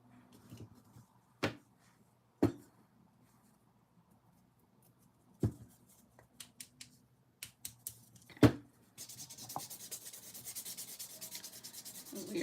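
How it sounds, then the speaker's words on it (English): A 100 grit nail buffer rubs over a pinky nail coated in thermal glow polish, giving soft, sparse scratchy strokes with quiet gaps between them, then a faint continuous hiss toward the end. "100 grit buffer and just going over my pinky"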